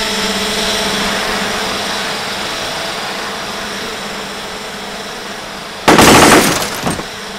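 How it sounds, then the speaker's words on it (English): Camera drone blown up by its self-destruct payload with a 15-foot blast radius: a steady engine hum drones on, then one sudden loud blast bursts near the end and quickly fades. "I'm going to blow this thing up."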